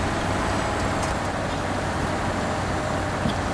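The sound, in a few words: noisy truck engine in the SnowRunner video game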